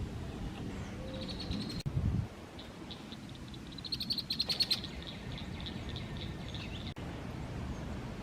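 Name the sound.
female red-winged blackbird calling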